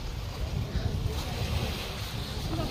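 Surf washes onto a clean beach beside a large fishing boat in the Philippines, a steady rushing roar mixed with wind buffeting the microphone.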